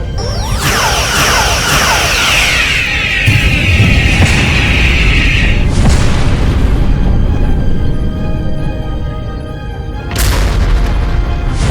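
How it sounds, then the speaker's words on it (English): Star Trek phaser fire from a starship, a loud descending sci-fi energy beam sweeping into heavy booming explosions and a long rumbling blast, with another sharp burst near the end. "Firing phasers."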